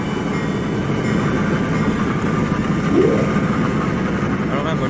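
A BNSF SD40-2R diesel locomotive, a rebuilt SD45-2, rumbles steadily in Trainz, with a constant low engine drone and rail noise that swells slightly midway. A voice is present throughout.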